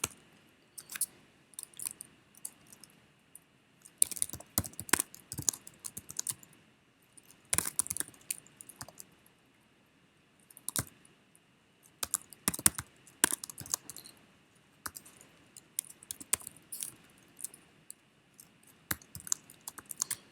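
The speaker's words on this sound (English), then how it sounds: "So I know there's a lot of typing" Typing on a computer keyboard during a C# coding session, with irregular bursts of close, crisp key clicks separated by short pauses and no voice.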